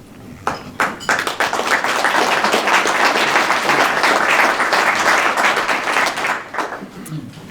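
Crowd applause at a college Hall of Fame induction ceremony starts with scattered claps, swells into a full, loud roll of clapping, then thins out toward the end.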